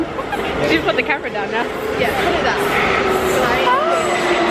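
A train pulling into a busy station, its steady rumble and squealing wheels rising beneath a crowd's chatter, with people talking close by.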